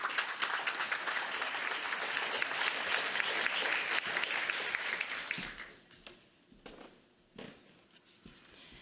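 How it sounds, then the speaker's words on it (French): Audience at a film and human rights festival closing ceremony in Geneva applauding loudly and continuously, then the clapping thins out to scattered claps and footsteps near the end. "Vous pouvez l'applaudir."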